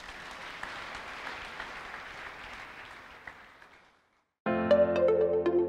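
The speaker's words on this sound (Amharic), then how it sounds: "እልልታና ጭብጨባ ተሰጣላችሁ።" A church congregation claps together at a worship service, a loud dense applause that slowly fades away before a short silence and then a sudden burst of music.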